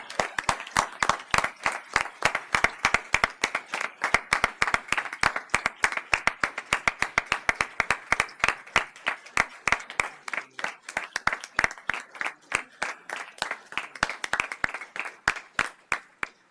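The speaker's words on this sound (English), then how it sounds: "give them a round of applause" Applause at a school board meeting for support staff of the year award winners, with dense, rapid clapping from a room of people lasting a long stretch, loud and sustained without letup.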